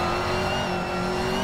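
A race car's engine holds a high, steady tone while it powers out of a corner at Silverstone in a racing game, a continuous loud whine with no breaks.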